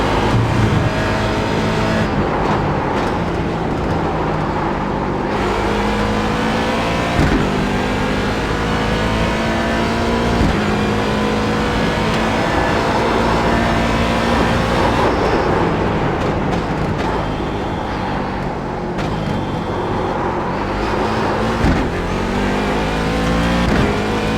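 Race car engines roar in the iRacing simulator, among them a Corvette C7 Daytona Prototype, a Ford Fiesta Rallycross car and an Audi R18 LMP1, with loud sustained revving and repeated gear-shift sweeps, heard continuously without talk.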